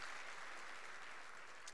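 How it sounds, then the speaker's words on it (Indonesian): A church congregation applauds for Jesus during a Sunday sermon, a faint, even patter of many hands clapping heard from a distance without pause. "Berikan tepuk tangannya buat Tuhan Yesus."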